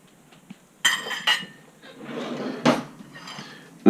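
A fork clinks and scrapes on a plate holding an omelette, several sharp close taps and clatters spread over a few seconds in a quiet kitchen.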